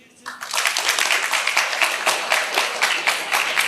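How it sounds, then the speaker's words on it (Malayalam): A group claps together in steady, dense applause that starts abruptly and keeps going at even strength. "ഇപ്പൊ നിങ്ങൾ തന്നെ ഇവിടെ ഏറ്റവും കൂടുതൽ സ്ട്രെങ്ത് ഉള്ളത്. നിങ്ങളൊന്ന് കൈയടിച്ച്."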